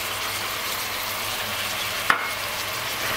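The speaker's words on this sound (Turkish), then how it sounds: "biraz karıştırayım" Garlic and tomatoes fry in a pot with a soft, steady sizzling hiss, while a single sharp utensil knock lands near the end as the mixture is stirred.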